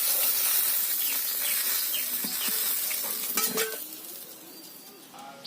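Loud, steady sizzling and hissing of fish frying in a pan, with occasional utensil clinks, gradually quieting toward the end.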